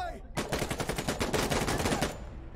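Rapid automatic gunfire in the tactical shooter Insurgency: Sandstorm, a dense burst of close, loud shots lasting about two seconds before cutting off.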